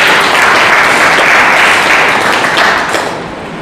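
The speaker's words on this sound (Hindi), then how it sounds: "ताली बजा के प्रभु की महिमा करें।" A church congregation claps together in praise during a Hindi-language worship service, producing dense, loud, sustained applause that fills the room and then tapers off slightly at the end.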